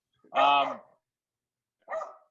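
A dog at home gives one full, tonal bark followed after a pause by a shorter, softer bark, both close and standing alone in otherwise quiet surroundings.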